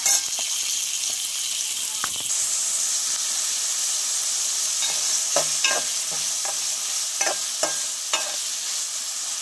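Onion, ginger, garlic and bay leaf sizzling in hot oil, a constant frying hiss broken by scattered spoon scrapes and clinks against the pan, mostly without talk.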